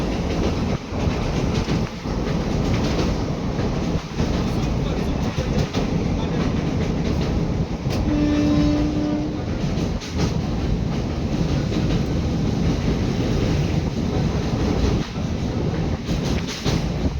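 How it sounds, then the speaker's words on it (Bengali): Steady rumbling roar of a passenger train running fast through Medinipur, heard from inside the carriage, with rhythmic wheel clatter on the rails and a brief tonal whine partway through, continuous and loud throughout. "ট্রেন স্পিডে চলছে আর এটা হচ্ছে ট্রেনের বাইরের ভিউ"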